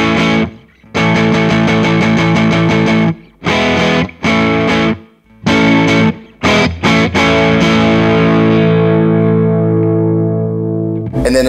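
Electric guitar on the neck pickup through a Vox AC30 OneTwelve amp, played loud with overdrive: choppy strummed chords broken by short gaps, then a long ringing chord that sustains and slowly decays.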